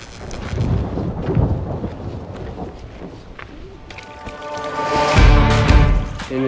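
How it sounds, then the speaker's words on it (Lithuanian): Steady rain on a wet, muddy mountain hiking trail in the Dolomites, Italy, with deep rumbles of thunder rolling through, building louder near the end under wind and gear noise. "šiandien einam per lietų"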